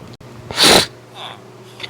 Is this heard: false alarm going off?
no